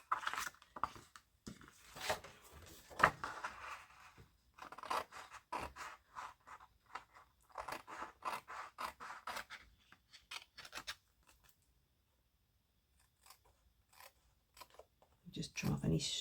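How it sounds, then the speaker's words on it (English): Scissors trimming the edges of a patterned paper and cardstock Christmas card panel, a series of short crisp snips and scraping rubs, close and quiet, with pauses between cuts. "Just trim off any stray bits that might not be quite square."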